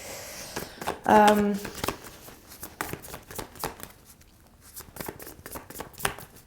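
Tarot cards being shuffled make soft, quick riffling and slapping noises in short bursts, faint and close, with a brief vocal sound partway through.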